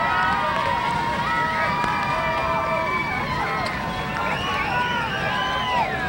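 A high school football crowd roars steadily, voices rising and falling in sustained cheers for defense, with scattered shouts poking through the dense, continuous noise.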